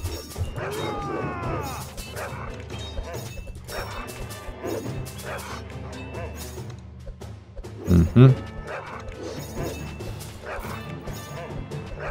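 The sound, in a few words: big dogs barking in the video game Kingdom Rush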